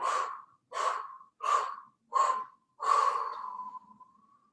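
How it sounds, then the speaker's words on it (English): Five short, forceful exhales out of the mouth during a yoga forward fold, evenly spaced, the last one longer and trailing off, close and alone with no talking. "exhale out of the mouth. This time do it in 5 short breaths."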